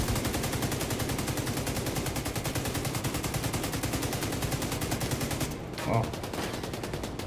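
Rapid automatic gunfire from the video game Division 2 Warlords of New York rattles continuously in fast bursts, breaking briefly near the end before resuming, with a player's voice heard once.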